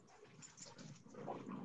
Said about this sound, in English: I got wrestling dogs over here.